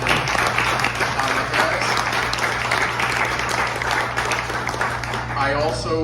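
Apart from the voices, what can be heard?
audience applause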